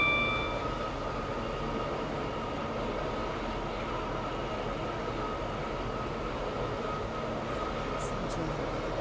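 Class 170 train running in the video game SCR (Stepford County Railway), a steady low rumble and hum of the three-coach train under way, with faint high beeps near the end.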